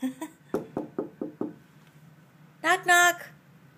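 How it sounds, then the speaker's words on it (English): Knuckles rapping on a bedroom door: a quick double knock, then a row of five even knocks, close and crisp, followed by a woman calling out afterward. "Knock, knock. Can I come in your room, please?"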